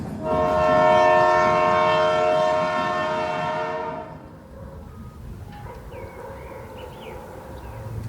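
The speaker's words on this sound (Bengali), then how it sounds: "ট্রেন তখন কলকাতার অন্ধকারের দিকে তীব্র গতিতে ছুটে চলেছে" A train speeds through a foggy night toward Kolkata, its horn blaring loud and sustained for about four seconds before cutting off, leaving the rumble of the moving train and faint clatter alone.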